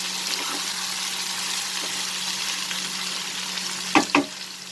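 Potato and ridge gourd being mixed in a frying pan for aloo posto: a steady oily sizzle hisses throughout, with two sharp spatula scrapes against the pan near the end.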